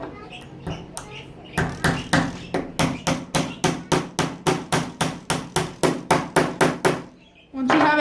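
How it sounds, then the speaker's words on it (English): A small nail is hammered through a wooden stick with about eighteen quick, even, close-up strikes, preceded by a few softer taps and followed by a voice at the end. "so you could hammer it through this stick in the middle"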